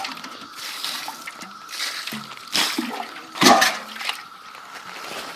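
Water poured into a clay slip mix for pallet cabin insulation, splashing in uneven bursts close up with a louder gush midway.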